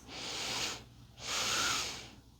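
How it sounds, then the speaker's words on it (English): Two long, airy inhales through the nose during restorative yoga, close and soft, each swelling and fading with a short pause between. "taking 2 long sips in through the nose and exhale through the mouth"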